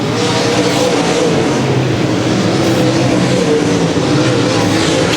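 Mod A dirt track race cars roaring down the back straightaway of an oval during a Saturday main event, a loud, unbroken engine blare with several motors layered together and a harsh, gritty edge.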